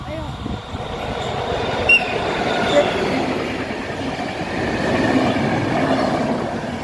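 An express train bound for Prievidza rumbles past at a distance, a steady low roar with faint rolling clatter, swelling slightly toward the end.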